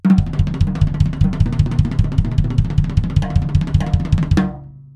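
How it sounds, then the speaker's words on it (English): A fast, steady right-left-kick drum lick alternating two hand strokes with a bass drum kick, played loud and close, ending on a ringing crash. "Let's take right, left, kick, my favorite."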